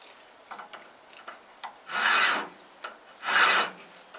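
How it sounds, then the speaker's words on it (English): A safe-edge file rasps against the shoulder of a metal tenon for a Suffolk latch in two long, close strokes, preceded by a few lighter scrapes and taps in an otherwise quiet space. "I can just file again with my save edge against the shoulder"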